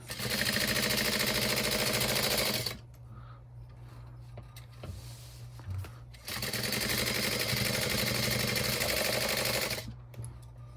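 A sewing machine bastes a crossbody bag in two long, loud, steady stitching runs, separated by a quieter pause with small handling sounds.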